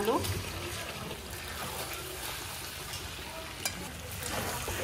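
Meat and potatoes sauté in a pan with a loud, continuous sizzle and crackle and an occasional stirring scrape, close and steady, with a brief voice near the start.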